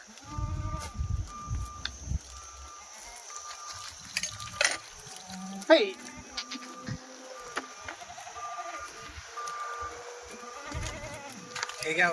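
Kathiawadi goats bleat in a pen or shed, several wavering calls, some near and some farther off, scattered among other animal and farm noises while someone talks over them.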